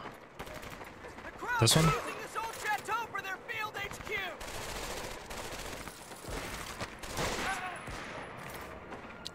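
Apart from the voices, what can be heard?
gunfire in video game Medal of Honor: Vanguard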